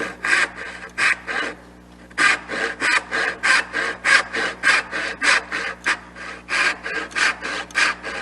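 Hand saw cutting dovetail tails in a wooden board, a steady run of rhythmic rasping strokes, close and fairly loud, with a short pause early on before the sawing resumes.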